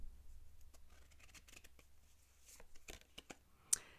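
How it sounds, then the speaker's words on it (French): Tarot cards shuffled and drawn, soft close riffling and flicking of the cards with a few sharper snaps, faint against a quiet room. "Tirant une carte par rapport à ce tirage que l'on vient de faire."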